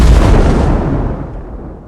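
A sound-effect explosion lands as a single heavy boom with a powerful low rumble that decays over about two seconds, loud and alone.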